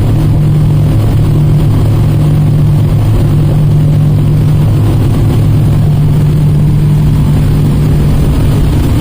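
Mercury 600 outboard engines on a Tiara 48 boat run wide open at max RPM, a constant loud low drone with steady hum and wind-blown roar throughout.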